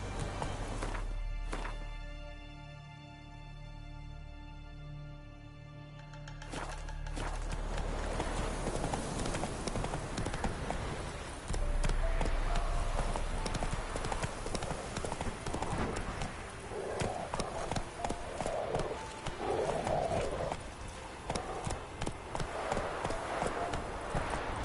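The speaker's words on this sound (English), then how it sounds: "Run, Roach." Hooves of a galloping horse in The Witcher 3: Wild Hunt clop in a fast, steady rhythm, loud and close, after a brief stretch of tonal game music, over ambient game sound.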